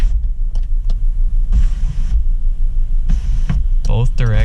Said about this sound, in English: One thing that I haven't tested yet is the sunroof, and look at that, she works fantastic